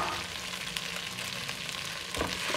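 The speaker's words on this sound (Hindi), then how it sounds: "अब हम इसमें डालेंगे चावल" Rice being added to macaroni frying in a pan, giving a steady, close sizzle with soft stirring scrapes and no talk.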